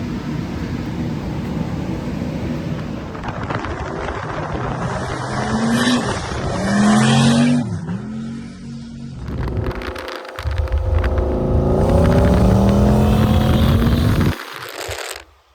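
A turbocharged LS 383 stroker Malibu runs a dyno pull on rollers, its engine roaring loud and steadily climbing, dipping briefly at a shift, then climbing again before cutting off.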